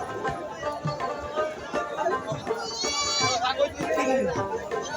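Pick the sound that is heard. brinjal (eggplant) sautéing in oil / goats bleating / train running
goats bleating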